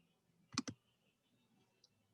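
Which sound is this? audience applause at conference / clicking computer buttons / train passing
clicking computer buttons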